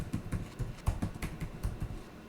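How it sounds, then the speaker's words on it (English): A password is typed on a computer keyboard as a quick run of about a dozen soft, close key clicks in an uneven rhythm over two seconds. "Now we type in password."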